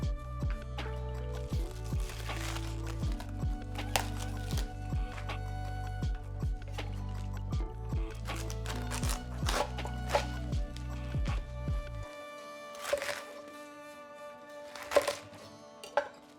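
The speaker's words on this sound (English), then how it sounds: "And then we're just gonna get to chopping." Repeated knife chops through lettuce on a cutting board, irregular and close, over a low droning musical background that cuts out near the end.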